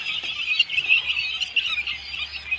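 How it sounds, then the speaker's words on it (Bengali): Guinea fowl on a Bangladeshi poultry farm give a steady stream of high, harsh squealing calls, close and fairly loud, with no talking over them. "আর এই পাশে আছে আমাদের দেখেন তিতির,"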